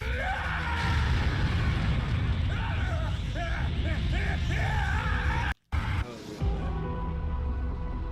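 An anime character lets out a long, loud scream that fills most of the stretch and rises in pitch, breaks off for a brief silent gap, then trails away into quieter sound.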